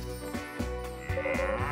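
Farm animal calls in the video game Story of Seasons: Pioneers of Olive Town, with sheep and cows on a farm: drawn-out bleating tones over steady background game sound.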